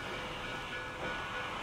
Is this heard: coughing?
no